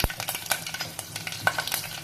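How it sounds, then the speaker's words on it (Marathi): Mustard seeds crackle and spit in hot oil with sharp pops scattered throughout, close and fairly loud, with a faint metallic scrape of stirring. "तेल तापलेलं आहे मोहरी घातली जिरं"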